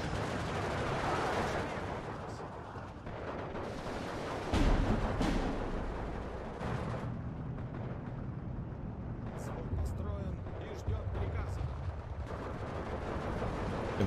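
Maxim machine gun and other battlefield fire in the Steel Division 2 Soviet campaign at Baranavichy: dense bursts of gunfire and heavy thumps of artillery, with sharp cracks standing out, continuous and fairly loud throughout.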